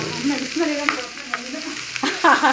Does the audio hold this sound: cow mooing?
no